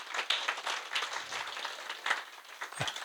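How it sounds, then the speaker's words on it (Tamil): Audience applause at an early childhood education centre gathering: a soft, steady patter of clapping from many hands, fairly distant and even, lasting about three seconds with no talk over it. "அவருக்கு ஒரு கைதட்டு கொடுத்துருங்க."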